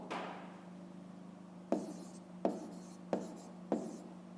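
Pen on paper while a fifth-grade maths exercise is worked out by hand: a steady faint scratching of writing, broken by four sharper taps of the pen about every 0.7 seconds, close and quiet with no talk.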